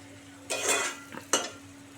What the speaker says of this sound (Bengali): দু ধরে খুব ভালো করে কষাবো